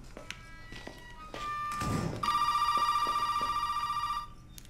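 A telephone rings inside the horror video game Resident Evil 7, a bright, repetitive electronic trill lasting about two seconds, preceded by a few soft thuds and footsteps and a short rush of noise, all fairly close.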